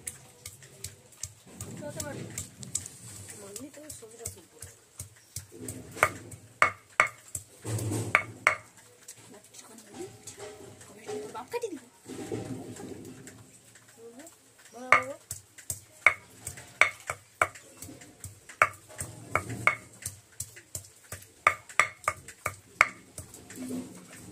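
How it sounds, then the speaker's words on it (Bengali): Garlic and ginger ground into paste on a stone grinding slab, with repeated rhythmic scraping and knocking strokes close by, under intermittent talk. "রসুন আদাটা বেটে নিচ্ছি।"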